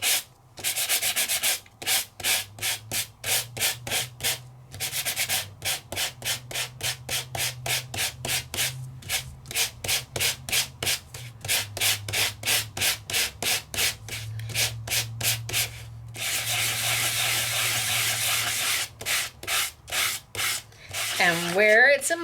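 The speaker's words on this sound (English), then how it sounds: "I can take my sandpaper and once again," Sandpaper rubbed by hand over an embossed stencil surface in quick, rhythmic back-and-forth strokes, close and steady with brief pauses between bursts.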